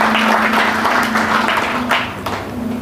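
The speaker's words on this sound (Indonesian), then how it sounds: "Berikan tepuk tangan yang terbaik." A church congregation at a Sunday service applauds steadily, a dense wash of clapping from many hands that holds for a few seconds before easing slightly.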